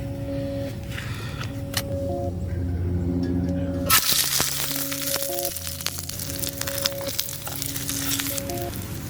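Biscuit dough hits hot ghee in a pan on a camp stove and sets off a loud, steady sizzle that crackles and hisses close by, over the low hum of the stove, with no talking.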